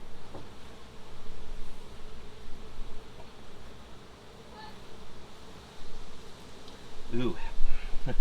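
Honey bees buzzing around an open hive, a steady close drone that swells and fades, with a few louder passes by individual bees and faint voices in the background.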